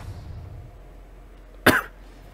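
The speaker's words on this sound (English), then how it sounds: "Sorry about the cough." A single short, sharp cough close to the mic, standing out against quiet background noise.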